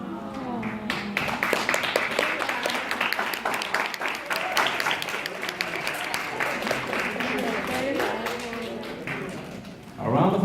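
Audience applause and clapping at the end of a school semester play fill the room steadily for about ten seconds, with crowd noise and scattered voices mixed in, then swell louder at the close.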